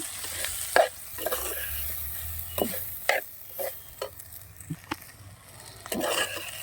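Grated coconut and cumin stir-fried in a pan, a light background sizzle broken by repeated sharp scrapes and clinks of a spoon against the pan at an irregular pace, close and without talk.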